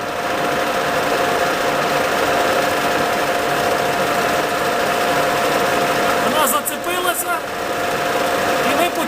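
A metal lathe running at 300 rpm for rotary broaching, its steady mechanical whir holding an even drone throughout, with a short burst of scraping cutting noise near the end.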